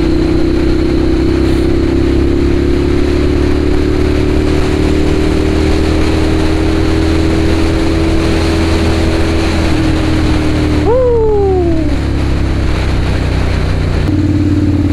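A Ducati Monster 795 motorcycle engine drones loudly and steadily up close, then swells in a brief rising rev before settling back to a steady note.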